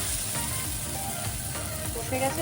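Papad curry cooking in oil in a pan sends up a continuous, close sizzle with faint bubbling, and a voice can be heard in the background.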